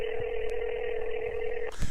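A telephone line gives off a steady, loud electronic tone that holds for almost two seconds before a short burst of noise breaks in at the end.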